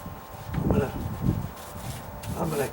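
Paint roller spreading mold-killing primer across OSB plywood, giving soft rhythmic rubbing strokes in a few close, repeated passes.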